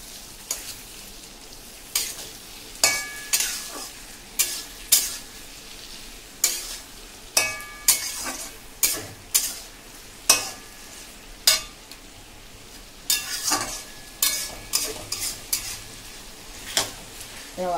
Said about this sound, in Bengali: এই আবার একটু নেড়ে চেড়ে দিচ্ছি